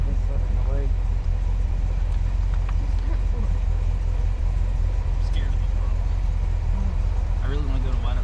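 A 1964 Rambler Ambassador Cross Country wagon engine runs steadily with a continuous low drone throughout, while people talk over it.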